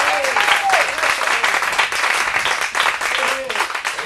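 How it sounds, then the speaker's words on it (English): An audience at a Friday night campmeeting praise and worship service applauds loudly and continuously, with cheering voices mixed into the dense clapping. "Come on, give Tasha a great big cheer tonight."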